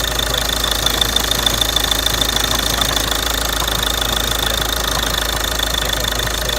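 A Ford 2.0 TDCi diesel engine idles just after starting, with a steady, loud knocking clatter and a constant hum, close and continuous with no voices.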